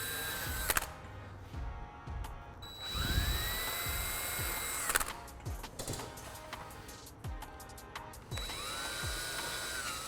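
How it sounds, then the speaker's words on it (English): A power drill with a 1/8-inch bit bores pilot holes into a C7 Corvette Stingray composite spoiler, several short whirring bursts that rise and wind down, separated by brief pauses and small mechanical clicks. "When I'm drilling holes into the spoiler,"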